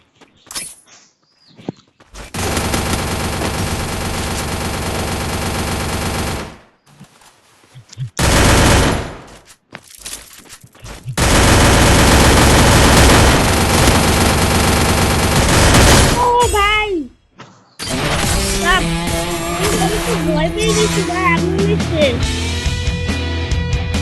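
Bursts of rapid automatic gunfire from a video game, loud and sustained, separated by short pauses, with mechanical clicks and game effects in between.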